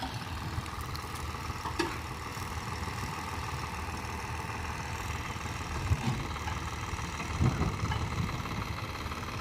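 A tractor engine idles with a thresher attached on a farm, a steady mid-low rumble with a few sharp knocks and clanks rising out of it.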